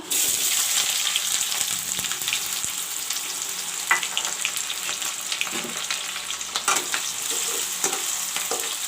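Chopped onions frying in oil for drumstick curry give a loud, close sizzle, punctuated by repeated spatula scrapes and clinks as they are stirred around the pan.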